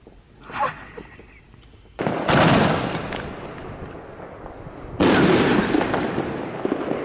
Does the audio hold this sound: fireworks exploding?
yes